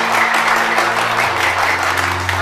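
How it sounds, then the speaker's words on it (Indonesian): Loud, dense applause from a crowd, steady and sustained throughout, with a faint low hum underneath. "Gue minta tepuk tangan buat polisi Indonesia yang selalu menjaga keamanan di Indonesia."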